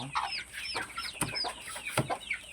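Chickens on a backyard poultry farm cluck and squawk close by in short, overlapping bursts, with several birds calling at once against a quiet background.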